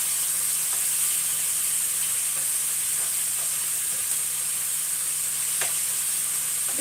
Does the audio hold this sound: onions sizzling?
yes